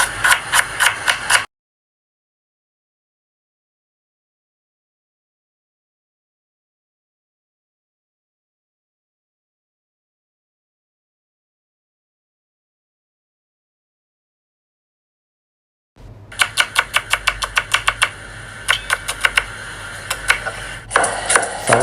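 Onion being sliced thin on a board for tuna masala, rapid, evenly spaced knife chops close by, a short burst, then a long silence, then a longer steady run of chopping.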